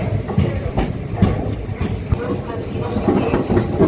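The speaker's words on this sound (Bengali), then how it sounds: "এটা কিন্তু একটা মানে ঋষিকেশ এক্সপ্রেস, এটা একটা স্পেশাল ট্রেন" Rishikesh Express special train at Varanasi station, rhythmic clickety-clack of wheels over rail joints with low engine rumble, moderately loud and close, with a voice speaking over it.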